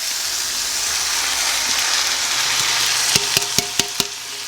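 A spoon stirs vegetable soup of corn and canned diced tomatoes with their juice in a pot: a steady wet hiss, then a run of four or five sharp, close metallic clinks near the end.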